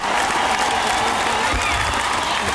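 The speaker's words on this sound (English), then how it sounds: "And I think they need an extra round of applause." An audience claps for the Newcastle Knights reserves at a 1997 grand final win celebration, sustained and loud applause with some cheering mixed in, continuous from start to finish.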